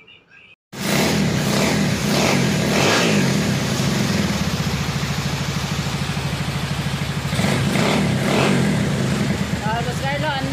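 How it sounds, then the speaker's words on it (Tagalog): A Honda TMX 155 project motorcycle with a 63mm big bore and OKO carburetor starts abruptly and runs loud and close, a rough, pulsing engine note rising into revs, with people talking nearby. "andar na yung motor mo"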